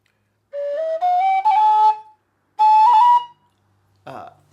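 A D tin whistle plays phrases of the reel The Wind that Shakes the Barley, with clear sustained notes sliding upward into higher pitches, in three short bursts and a later one, separated by silence.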